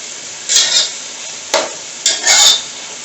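Noodles and egg being stirred in a pan, a few separate bursts of scraping and sizzling from utensil against cookware, fairly close, with no talking.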